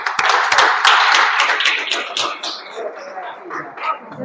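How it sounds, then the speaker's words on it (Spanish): A church congregation bursts into lively applause, a dense crowd of clapping mixed with voices and cheers that is loud at first and then gradually thins and fades. "un aplauso a Dios."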